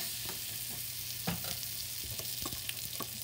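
A keto grilled cheese sandwich fries in butter in a pan, a steady close hiss broken by a few soft scrapes and taps.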